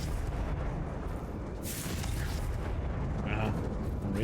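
Confringo fire spell blasting in Hogwarts Legacy, a dense, rumbling burst that flares at mid-clip with sparkling crackle over continuous background game noise.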